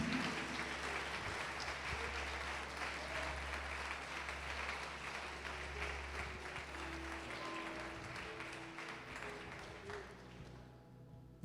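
A church congregation applauds steadily, a dense wash of clapping that holds for about ten seconds before thinning out at the very end.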